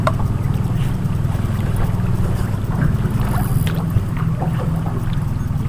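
An outboard motor on a fishing boat runs steadily on the water, a continuous low drone with wind buffeting the microphone and faint splashes throughout.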